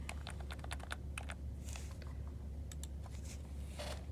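Typing on a computer keyboard: quick bursts of close, crisp key clicks, a rapid run followed by scattered taps and short pauses, fairly quiet.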